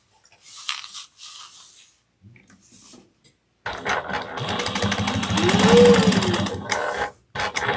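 A sewing machine top stitches an eighth-inch seam on a bag pocket: a few short bursts of rustling fabric handling, then a sustained rapid rhythmic stitching run of several seconds, up close, with a brief pause before it resumes.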